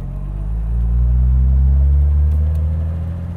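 A 1964 Jaguar XKE Series 1 Roadster on the road, its engine giving a deep, steady rumble that swells a little, then settles into a low cruising drone.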